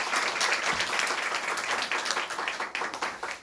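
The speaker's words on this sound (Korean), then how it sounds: "큰 박수로 맞아주십시오." An audience at the opening ceremony of an international development cooperation forum applauds to welcome a guest. Close, dense clapping from a large crowd holds steady and then thins slightly toward the end.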